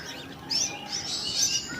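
Caged sultan birds chirping softly in short, bright bursts, several high calls scattered across a low, steady background hum with no talking.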